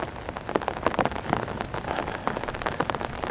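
Rain pattering steadily on leaves and ground in a park along a river, with dense close drops and no voices, heard alone during a short walk.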